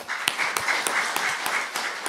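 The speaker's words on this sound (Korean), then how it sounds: "오늘 은퇴하시는 분들을 위하여 사랑과 존경을 담아 다시 한번 큰 박수 부탁드립니다." A church congregation at an afternoon worship service applauds retiring officers, broken-up clapping with a few sharp louder claps standing out, moderately close and steady for a couple of seconds.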